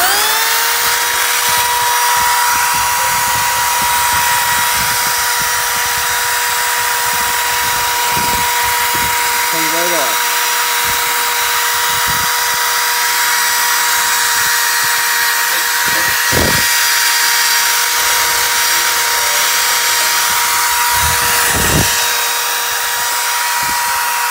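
Power tool whining loudly and continuously while scrubbing old gasket material off a transmission oil pan on a 2003 Ram 2500, with a steady high-pitched drone and brief scraping bursts, close up throughout.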